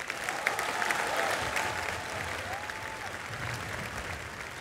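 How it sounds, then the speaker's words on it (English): A school holiday concert audience claps steadily and warmly, sustained applause filling the room, with a faint voice briefly audible under it. "Give a round of applause."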